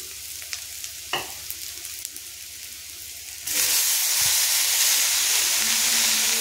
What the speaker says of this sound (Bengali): এটাকে আমি নাড়াচাড়া করতে থাকবো যতক্ষণ না এটা সুন্দর করে ভাজা হচ্ছে